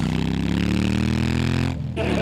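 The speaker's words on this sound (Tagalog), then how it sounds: "Oh, may motor pa." A motorcycle engine rumbles close by, loud and steady with a slight rise in pitch as it passes, then cuts briefly near the end before resuming.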